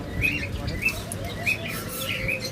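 A parrot gives a series of short, bright chirps at fairly regular intervals, close by, over a low background hum.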